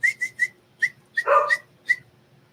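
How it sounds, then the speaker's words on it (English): A dog gives a quick burst of sharp whistling yips and a single short bark near the middle, close to the microphone and moderately loud, in an otherwise quiet room. "Sorry, my dog's bark."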